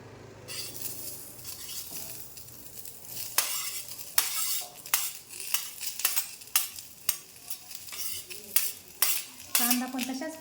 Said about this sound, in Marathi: कांदा पण तशाच प्रकारे कमी गॅस करून लालसर भाजायचा आहे